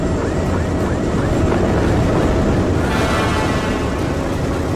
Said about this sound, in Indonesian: Helikopter diledakin adik-adik.